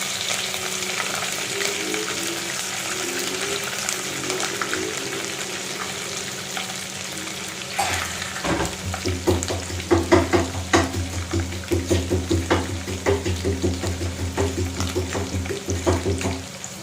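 Green chili fries in a hot pan for a paneer and mushroom curry, a soft sizzle that swells into louder, crackling frying with rhythmic stirring scrapes in the second half, close and unaccompanied by talk.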